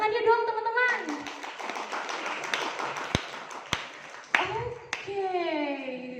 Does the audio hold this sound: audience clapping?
yes